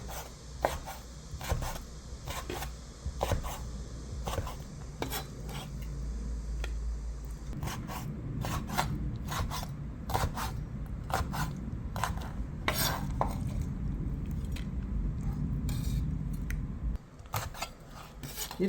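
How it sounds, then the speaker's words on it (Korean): Fresh squid is being sliced in a home kitchen, producing a series of sharp knife strikes on a cutting board with scraping in between. The cuts are close and fairly regular, with no speech over them. "이렇게 해서 오징어는 이제 다 썰었거든"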